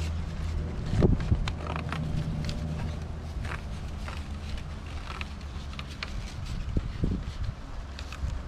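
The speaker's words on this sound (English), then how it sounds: "It's a little windy here today." Wind blows outdoors in a continuous low buffeting rumble across the microphone, with scattered light knocks and rustles over it and no voices.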